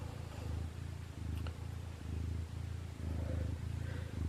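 A mother cat purring steadily and close, resting with her newborn kittens in the back of a three-drawer filing cabinet, the rhythmic low rumble pulsing in regular breaths without pause.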